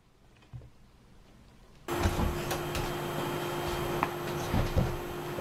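A vacuum cleaner switches on abruptly after a quiet moment and keeps running with a loud, steady whine and rushing air.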